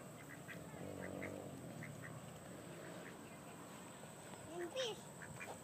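Ducks quack as they are fed, with a few short, faint calls and one clearer quack near the end, set under nearby voices talking.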